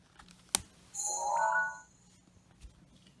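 A short click, then a bright chiming electronic flourish, the Zelda: Breath of the Wild Sheikah Slate sound on a 3DS home menu, rises and fades over about a second, followed by quiet room tone.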